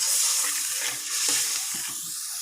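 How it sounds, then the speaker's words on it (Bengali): Masala frying in oil in a pan for vegetarian stuffed pointed gourd (potoler dolma), a brief, steady sizzle with light stirring scrapes heard close up. "এটাকে আমি কষিয়ে নিব একটু।"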